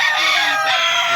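A rooster from a backyard flock of gamefowl lines crows close and loud in one sustained, strained call that fills the whole moment.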